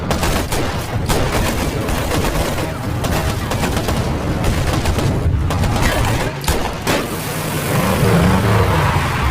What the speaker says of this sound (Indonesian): hingga baku tembak sengit tak dapat lagi dihindari